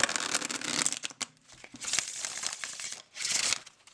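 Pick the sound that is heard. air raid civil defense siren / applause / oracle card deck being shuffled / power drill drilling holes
oracle card deck being shuffled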